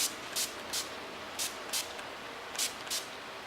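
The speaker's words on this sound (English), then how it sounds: "I'm going to be spraying that on the left half of my face" Short bursts of a fine matte setting spray misted onto a face, about eight quick spritzes in uneven pairs, close and crisp over a quiet background.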